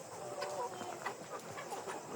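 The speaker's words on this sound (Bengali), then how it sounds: "সাদা মুরগি, মুরগিগুলো অনেক সুন্দর" White layer hens on a poultry farm cluck in scattered bursts over a steady shed hum, no single bird standing out close.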